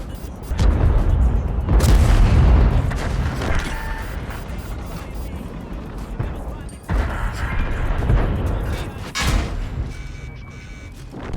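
Heavy booming tank cannon blasts from the ERAC 105 Proto light tank in a video game, rumbling low-end impacts, a few spaced shots amid game background noise and occasional talk.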